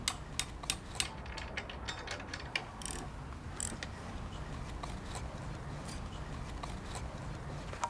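Screw and nut being tightened to fix H-shaped post supports for a privacy fence system, a steady run of small ratcheting, clicking mechanical sounds with sharp metallic ticks, close and continuous, no talking.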